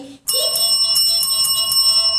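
Bright notification bell chime, a sustained metallic ring with a slight shimmer that starts abruptly and holds, clear and close.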